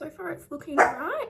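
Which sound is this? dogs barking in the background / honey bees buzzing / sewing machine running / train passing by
dogs barking in the background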